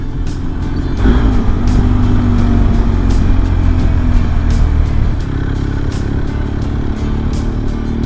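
A motorcycle engine hums steadily while riding a smooth coastal road along the sea, with a constant wind-rushed drone and a small surge in power near the start.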